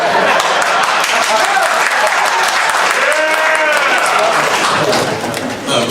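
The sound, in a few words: audience giving a pity clap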